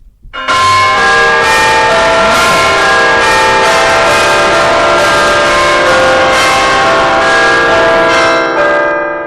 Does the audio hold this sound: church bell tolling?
yes